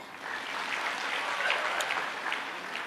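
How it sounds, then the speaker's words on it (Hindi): An audience at a Bageshwar Dham religious gathering breaks into a few seconds of steady, moderately loud applause, many hands clapping together without any speech over it. "बहुत सुंदर बोली आपने, एक बार ताली बजाओ।"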